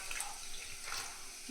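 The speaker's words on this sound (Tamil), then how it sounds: "தண்ணி நான் சும்மா 1/2 கப் மட்டும் ஊற்றிக்கிறேன்" Water runs in a steady splashing stream as half a cup is poured into a cooking pot while making vegetable dumplings, close and continuous with no talk.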